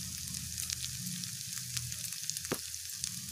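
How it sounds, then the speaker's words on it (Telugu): Ginger garlic paste fries in a pan for an Andhra-style lentil-dumpling curry, crackling and sizzling steadily with scattered spatters and a few stirring scrapes, close and alone. "అల్లం వెల్లుల్లి పేస్ట్ వేసుకొని బాగా ఫ్రై చేసుకోవాలి."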